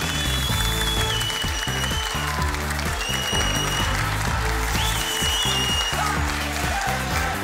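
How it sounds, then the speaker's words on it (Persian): Studio audience at a televised team game show claps loudly and continuously, a dense sustained round of applause with no pause. "پیش از اینکه دو تیم بیاید تشویق را بگیرین"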